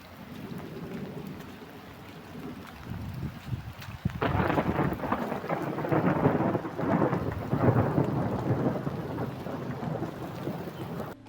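A thunderstorm with heavy rain during a windstorm, a dense steady downpour hissing loudly with rumbling thunder, swelling sharply about four seconds in and staying heavy throughout, with no voices.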